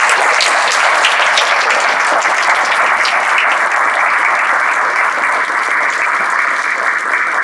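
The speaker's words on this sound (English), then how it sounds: "Applause for all of them." An audience gives a steady round of applause for students at a Ripon Area School District board meeting, full, even clapping from many hands throughout with no pauses.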